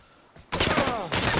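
Two close, harsh bursts of gunfire in the video game Vigor, one straight after the other, with no talking.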